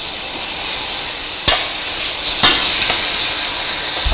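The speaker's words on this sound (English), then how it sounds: "So we're going to just stir that a bit." Mutton pieces are stirred in a hot pot for samp and mutton curry, with a constant frying sizzle and a few sharp knocks of the spoon against the pot.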